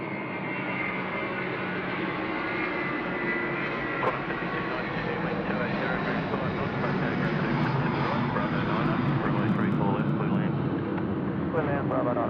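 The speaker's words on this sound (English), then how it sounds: "It's Malaysia 140, Sydney to Kuala Lumpur, the A330-300. Here we go. Now rolling at runway 34 left." Malaysia Airlines Airbus A330-300 rolling down runway 34 left at Sydney Airport at night for takeoff, a loud continuous jet engine roar that swells steadily across the whole stretch.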